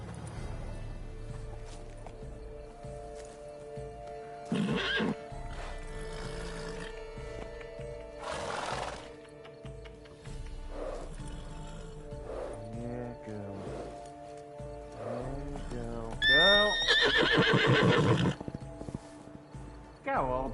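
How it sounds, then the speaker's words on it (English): A horse neighs and its hooves clop in The Witcher 3: Wild Hunt, set among game music and ambience, with voices talking throughout and a sharp, rising whinny standing out near the end. "I need to find a treat for the horse."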